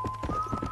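Horse hooves clip-clop in a quick, steady rhythm as a rider travels along a trail in Red Dead Redemption, close and moderately loud over a faint steady tone.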